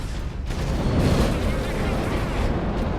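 Battlefield gunfire and explosions in Space Marine, a dense roar of heavy booms and rapid shots that stays loud and unbroken throughout.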